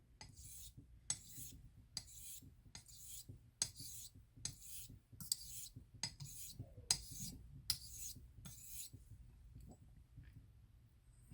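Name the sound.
Dovo straight razor being honed on a stone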